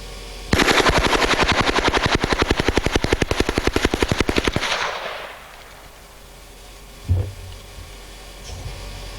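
A JD Jones SSK machine gun fires one long rapid burst of evenly spaced, loud shots, followed by a fading echo and a lone later thump.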